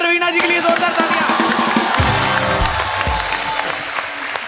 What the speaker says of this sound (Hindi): एक तो ब्रावो रवीना जी के लिए जोरदार तालियां.